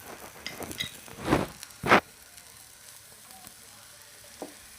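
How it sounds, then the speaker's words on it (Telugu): Chopped onions and green chillies dropped into hot oil for masala dosa, two loud bursts of close sizzling in quick succession that settle into a faint, steady fry. "ఆనియన్స్ పచ్చిమిరపకాయలు అయితే వేసుకుంటున్నాను."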